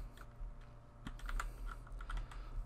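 Rapid keystrokes on a computer keyboard while entering a search in the online game DC Universe Online, close and fairly quiet, in irregular bursts over a low steady hum.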